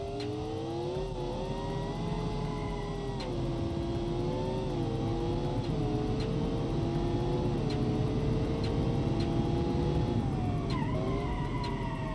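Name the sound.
Hot Wheels car engine driving in BeamNG.Drive video game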